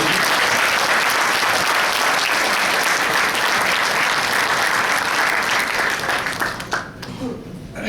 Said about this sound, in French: on peut donner une bonne main d'applaudissement à notre équipe